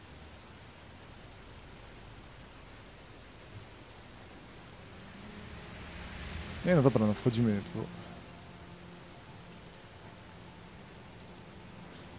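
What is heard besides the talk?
rain in a video game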